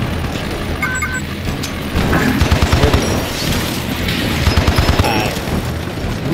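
Mine launcher firing in Attack of the Green Army Men, a series of rapid thumping launches and booms repeating in bursts over steady rumbling game noise, with a voice talking intermittently.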